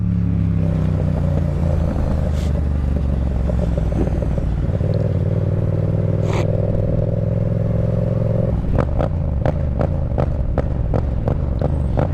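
Yamaha MT-07 motorcycle engine under heavier throttle, a loud continuous rumble that shifts partway through into rougher, clattering pulses, close up with no talking.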